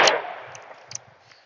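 A single close, sharp blast from a shotgun firing .410 buckshot at an outdoor range, its report fading over about a second with a faint metallic ring.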